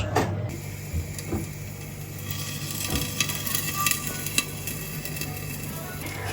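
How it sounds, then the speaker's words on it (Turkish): Steady sizzling and crackling of potatoes frying in a pan, with occasional clinks of utensils against the pan. "punem în tigaie cartofiorii noștri la prăjit"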